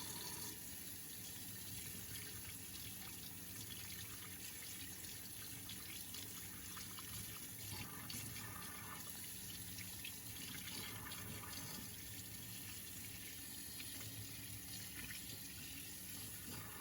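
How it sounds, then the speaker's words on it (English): Water running from a tap to rinse excess paint off a small painted gargoyle, a steady faint hiss of flowing water with no voices and little change. "we can run it under water immediately and rinse off the excess paint"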